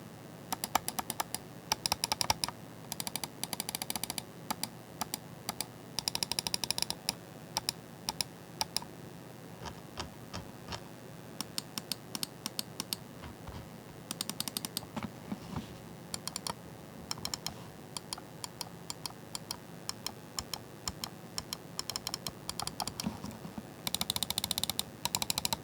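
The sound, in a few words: mouse buttons clicking, sound test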